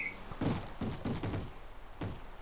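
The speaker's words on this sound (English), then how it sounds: "Why are you banging on the damn door?" A Minecraft zombie banging on a door, several dull thumping knocks in an uneven run, fairly close, followed by one more thud after a short gap.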